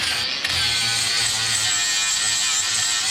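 Angle grinder cleaning up welds on a trailer, a steady loud high-pitched whine holding for the whole stretch with a low rumble underneath.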